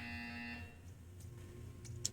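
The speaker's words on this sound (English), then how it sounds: "When you hear the buzzer," Buzzer in the Portal 2 video game, a steady electronic tone that lasts about half a second and then cuts off, followed by faint clicks and quiet background.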